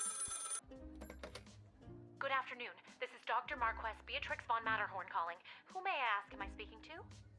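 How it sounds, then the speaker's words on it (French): A telephone rings briefly at the start inside the video game Lil' Guardsman, a short electronic trill that then gives way to a voice talking over game sounds. "Téléphone sonne."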